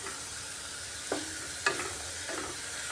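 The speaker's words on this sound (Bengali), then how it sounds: "কাশ্মীরি লাল লঙ্কার গুঁড়াটা দিয়ে একটু ভালো করে কষিয়ে নিচ্ছি।" Kashmiri red chili powder sautés with pointed gourd in a pan, a soft steady sizzle broken by two or three sharp clacks of stirring, quiet and close with no voices.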